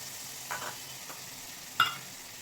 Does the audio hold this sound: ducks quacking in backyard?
no